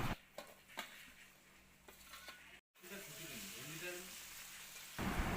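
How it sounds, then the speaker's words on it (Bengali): Onion and chopped tomatoes frying in a pan for a jackfruit curry, a soft steady sizzle broken by a few clatters and stirring sounds, then a brief gap before the sizzle resumes and swells near the end. "পেঁয়াজটাকে ভাজা করার পর এর মধ্যে আমি দিয়ে দেব কুচিয়ে রাখা টমেটো কুচি"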